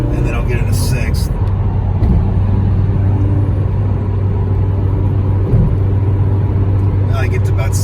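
A 2006 Mazda Miata LE with a factory removable hardtop cruises around 60 mph in fifth gear, a steady low engine drone and road rumble inside the cabin with brief chirpy sounds at the start and end.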